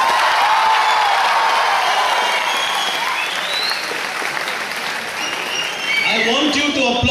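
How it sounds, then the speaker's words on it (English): Audience applause at the national finals of a rural IT quiz in Bangalore, a dense, steady wash of clapping from a large crowd that runs throughout and swells toward the end. "I want you to applaud the same way for all the teams"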